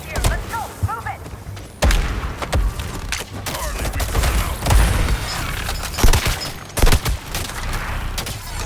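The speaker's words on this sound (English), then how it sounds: "I just dropped a bunch of grenades on him" Grenade blasts in the Suicide Squad video game during a fight against an enemy tank: repeated loud thuds and bursts in an irregular string, mixed with gunfire over a dense battle din.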